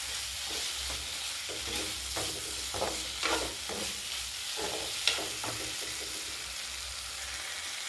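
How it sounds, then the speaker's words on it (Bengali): Soybean chunks and spice masala are stir-fried in a pan, with repeated scraping stirs at an uneven rhythm over a constant sizzling hiss, close up and with no talking. "সয়াবিন দিয়ে মশলার সঙ্গে একটু কষে নিচ্ছি ভালো করে।"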